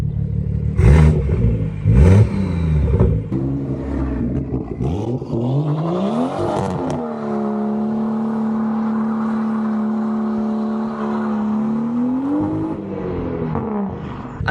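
BMW M240i coupe with an aftermarket exhaust, its engine revving in a few sharp blips, then holding a steady, deep-toned drone close by, loud and alone with no talk.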